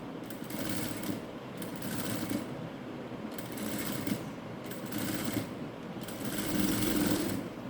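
A sewing machine stitches fabric around a curve for a decorative fabric knot, running in a steady close-up whir that pauses briefly a few times and then carries on, with no talking.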